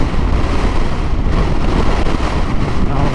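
Strong wind blowing outdoors in Chile, a steady loud roar buffeting the microphone without pause, close and dense, no voices.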